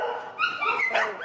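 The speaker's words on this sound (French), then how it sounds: "Ils commencent à aboyer et ça effraie les prédateurs." Sheepdogs raised among a flock on a Patagonian estancia give a burst of barks and yips that comes fairly close and fairly loud, with overlapping calls over about a second and no clear speech.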